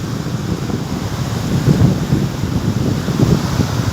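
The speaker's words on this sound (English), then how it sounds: "there's an interruption that occurs when the waves crash into each other" Ocean waves crash and plunge onto a beach, pulling sand away. The result is a dense, continuous low roar with gentle surges and no voices.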